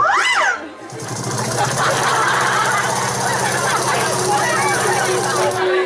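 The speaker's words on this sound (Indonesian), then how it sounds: "Dan Gatot menjahit." A sewing machine runs continuously with a fast, buzzing mechanical rattle, loud and close, after a short squeaky sound at the start.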